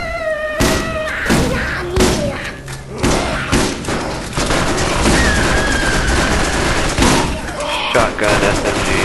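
Rapid shotgun-style SMG gunfire in the video game Borderlands, loud bursts of thumping shots mixed with impacts and game effects, continuous through the clip.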